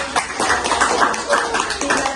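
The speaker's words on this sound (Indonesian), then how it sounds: "tepuk tangan dulu" Classroom audience of parents clapping together for a couple of seconds at a school session on positive culture, steady dense patter of hands with no voices on top.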